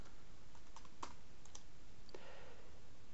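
Soft keystrokes on a computer keyboard as a spreadsheet title is typed, a handful of sparse, faint clicks over a steady background hiss.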